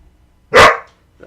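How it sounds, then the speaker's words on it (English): A single loud, sharp bark comes from a dog close by indoors, reacting to something outside, followed by a faint trailing sound in near silence. "if Charlie barks, he's hearing something outside."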